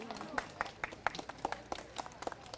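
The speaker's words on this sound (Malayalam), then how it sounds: "കൈയടി." An audience on a Malayalam comedy game show applauds with light, scattered clapping, a couple dozen distinct claps over a couple of seconds rather than a full roar.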